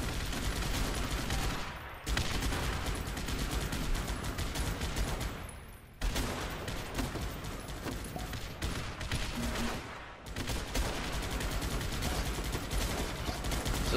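Battle gunfire in the video game Guns Up!, a dense, continuous fusillade of overlapping shots that drops out briefly two or three times before resuming at full intensity.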